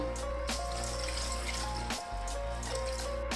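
Water running steadily into a mutton karahi pot, a continuous faint splashing stream with slight fluctuations and a brief dip midway, no voices.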